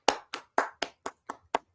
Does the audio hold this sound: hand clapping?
yes